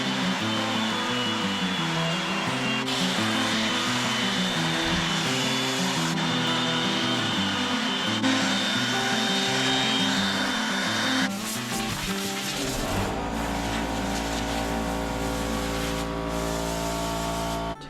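A loud power sander whines continuously on a wooden table, its pitch shifting as pressure changes, then drops to a lower steady drone near the end.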